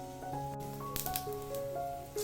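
Mustard seeds popping and spluttering in hot oil for a stir-fry, with sharp crackles scattered over a couple of seconds, heard close up beneath sustained tonal background sounds.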